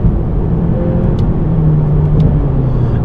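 A 2018 Honda Accord Sport with the 1.5-litre turbo engine drones steadily from inside the cabin, with a soft shift in engine tone partway through during a paddle upshift.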